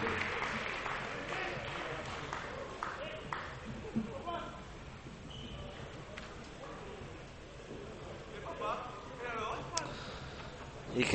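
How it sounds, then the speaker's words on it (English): The French squash team cheering and clapping outside the court after a World Teams match win, with scattered applause and crowd noise mixed with talk throughout. "You can see the French team cheering around there outside the court as well"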